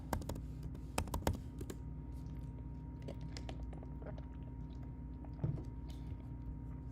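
Quiet typing on a computer keyboard, with bursts of quick key clicks at the start and scattered taps afterward over a low steady room hum.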